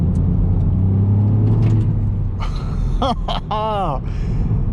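A Ford Fiesta ST with a Stage 1 remap revs and accelerates hard with a loud, rumbling roar, rising in pitch as it pulls, close and dominant throughout.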